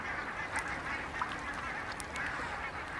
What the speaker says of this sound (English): Ducks, swans and coots huddle together in the last open water holes.